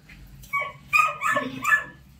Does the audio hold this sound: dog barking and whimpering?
yes